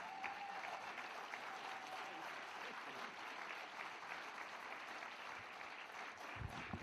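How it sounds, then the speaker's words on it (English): Sustained, even applause from a standing audience welcoming the Deputy Minister at a contractor development roadshow, a continuous wash of clapping with faint crowd murmur and no speech over it. "Let's all be on our feet and give him a nice round of applause."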